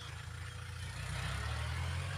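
A large tractor engine runs at a steady idle, a continuous low rumble that stays close and even throughout, with no voices over it.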